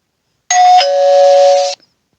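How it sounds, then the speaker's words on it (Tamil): In a cartoon story, a two-tone electronic doorbell chime rings once, loud and close, sustaining for about a second before cutting off into silence. "இந்த காலிங் பெல் அமுக்கிட்டு ஓடிட வேண்டியதுதான்"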